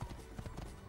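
Horse hooves clop in quick succession while riding in the video game Assassin's Creed 3, a brief, faint run of muffled hoof beats with a low rumble underneath.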